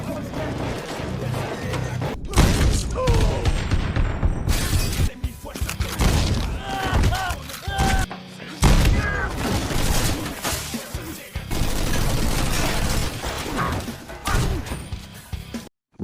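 Gang members and a lone woman trade gunfire in a movie shootout: loud, dense bursts of shots, crashes and impacts packed closely over a busy soundtrack, with brief voices mixed in.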